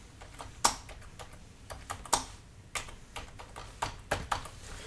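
Fingers type on a computer keyboard in quick, irregular bursts of close, crisp key taps, with one key struck harder now and then, and no talking.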